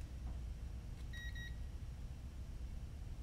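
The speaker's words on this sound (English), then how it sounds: "now we're gonna do another continuity test." A multimeter continuity tester gives one short, faint, steady electronic beep during a drone repair, set against quiet low background hum.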